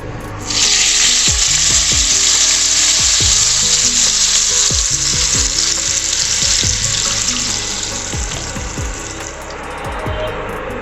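Water poured into a hot pan of fried hilsa fish sets off a loud, close, continuous hiss and sizzle that holds for most of ten seconds, easing slightly toward the end, with low bubbling knocks underneath.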